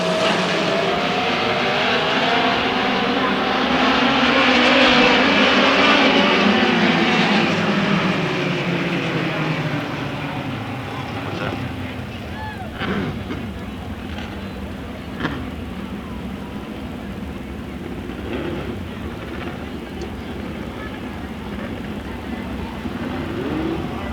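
Race cars roar off the green flag start at Susquehanna Speedway, their loud engine note swelling, then holding as a sustained, rising whine that fades slightly as the pack moves away.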